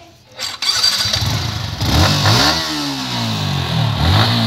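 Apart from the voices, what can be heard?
motorcycle engine revving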